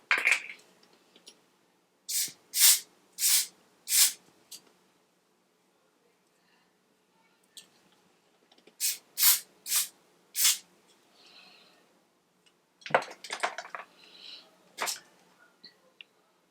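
Hair spray from a can during a holiday hair and makeup routine, heard as several short bursts in quick clusters, close and crisp against a quiet room, with a pause between the groups of sprays.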